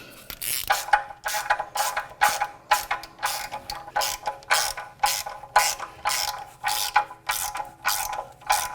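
A hand ratchet drives a 10 by 1.25 thread chaser over the studs of a 2000 Acura Integra exhaust B-pipe, giving a close, regular series of sharp clicking strokes, about one or two each second, with no talking.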